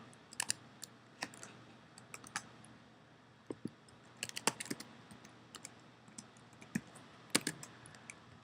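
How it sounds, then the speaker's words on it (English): Typing on a computer keyboard while logging in to a student dashboard, with scattered individual key clicks and short quick bursts, close and clear over a quiet background. "I will type that in right now."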